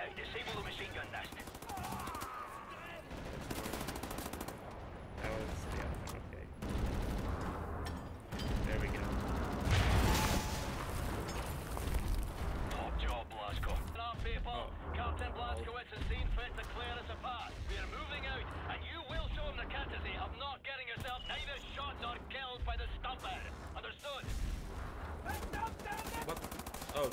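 A machine gun nest fires in Wolfenstein: The New Order, with steady mechanical rattling bursts mixed into a busy game soundscape while a person talks over it throughout.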